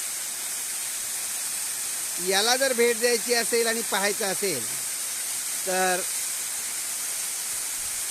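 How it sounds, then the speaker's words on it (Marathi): An overflowing waterfall beside the Birwadi tunnel on the Samruddhi highway gives a steady, full hiss of rushing water throughout, with someone talking over it for a few seconds. "समृद्धी महामार्गावरील हा ओसांडणारा दुसरा धबधबा आहे"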